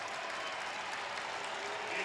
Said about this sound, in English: Saints crowd below us getting up.